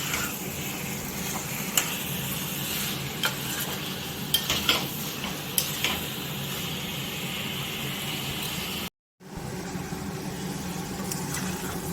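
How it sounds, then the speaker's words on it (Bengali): Chicken pieces going into a very hot pan and being stirred, heard as a constant close sizzle with scattered clinks and scrapes of the spoon and a brief dropout near the end, with no voices. "খুব গরম এবার মাংস দেওয়া হচ্ছে"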